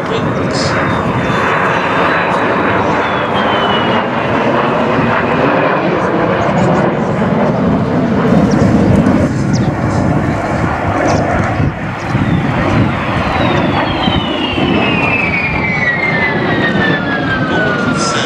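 A pair of de Havilland Vampire jets, including a two-seat T.11 trainer, fly a display at the Duxford air show in 2013. A loud, continuous jet roar carries sweeping, whistling whines that rise and fall as the aircraft pass, with a voice speaking over it.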